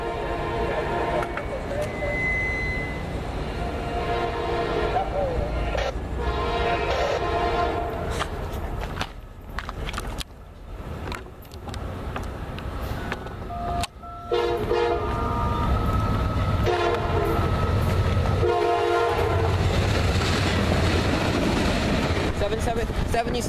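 Amtrak passenger train passing near Miami Airport on a southbound run, a loud continuous rumble and rail clatter with horn blasts sounding over it, and people talking nearby.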